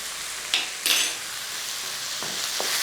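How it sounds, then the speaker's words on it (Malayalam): Onions and tomatoes fry in a pan for cauliflower curry, giving a steady sizzle with a few brief scraping stirs near the start and end, close and fairly loud, with no talking. "ആ തക്കാളിയും കൂടി ഇട്ട് എന്നിട്ട് അങ്ങോട്ട് ഇളക്കാം."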